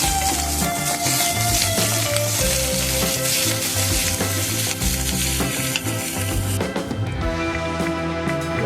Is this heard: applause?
no